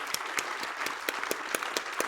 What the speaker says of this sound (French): Applaudissez-les parce que c'est des légendes vivantes.